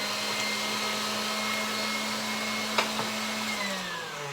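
An electric hand mixer whips vanilla into meringue, a steady motor whine holding one pitch for several seconds, then dipping slightly as the speed shifts, with a faint knock of beaters against the bowl.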